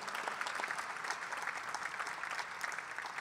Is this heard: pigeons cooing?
no